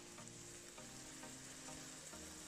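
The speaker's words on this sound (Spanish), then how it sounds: "vamos a dejar guisando un poquito más la cebolla con el ajo" Onion and garlic fry in a pan with a dense, even sizzle, close and steady, while faint periodic scraping of a spoon stirring the mixture repeats several times underneath.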